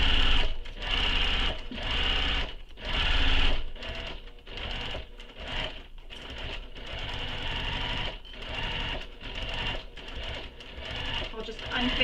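A sewing machine stitches a seam while making a mini crossbody bag, running in quick rhythmic bursts with short pauses between runs, close and steady throughout.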